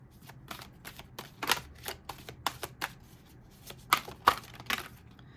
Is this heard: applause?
no